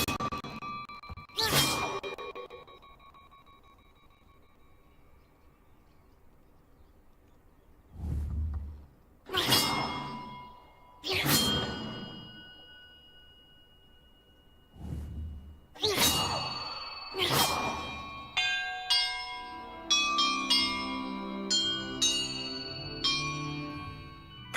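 Bells are rung in a Hogwarts Legacy puzzle, a sequence of clear, separate clanging strikes with pauses between them, then a rapid cascade of ringing chimes that closes the sequence.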